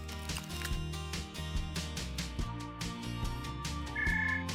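A phone set to a croaking frog ringtone rings from inside a freezer, giving repeated rhythmic croaks with mechanical ratcheting tones, fairly faint and muffled, with no talking.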